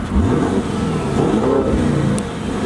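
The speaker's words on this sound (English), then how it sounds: "you can literally feel the car shaking when I rev it" A Lamborghini Urus SUV engine revving hard, a loud, close, throaty roar that rises and falls through a couple of throttle blips, with the deep rumble dominating throughout.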